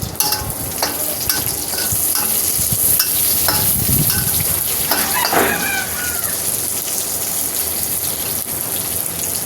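Food sautéing in a hot pan, with garlic among the ingredients: continuous sizzling and frying with scattered stirring scrapes and clinks of a utensil, close and steady throughout.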